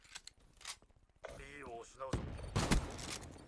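Bursts of gunfire in the Call of Duty Black Ops 3 Domination online match, several sharp shots and a rapid volley mixed with game effects, with a player talking over parts of it.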